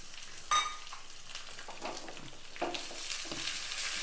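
Shallots and curry leaves sizzle in hot oil for a peanut chutney tempering, a close, crackling fry with sharp spits and stirring scrapes, a louder burst early and another partway through.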